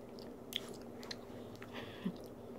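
Chewing on food up close, with soft crunchy bites and mouth noises in an irregular rhythm through a quiet room, with no talking.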